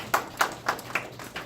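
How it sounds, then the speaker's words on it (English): Five spaced hand claps from a small group at a design thinking workshop, each a sharp burst about every quarter second, fairly close and moderately loud with no talk. "Can we give her a hand of applause?"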